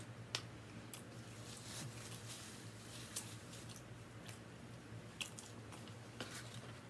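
Close, quiet bites and soft chewing of a vegan burger, with scattered small crunchy and squishy clicks over a low steady hum, no talk.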